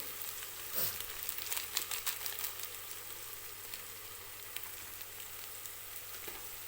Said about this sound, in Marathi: व्यवस्थित हे मसाले कांदा टोमॅटोसोबत परतून घ्यायचे आहेत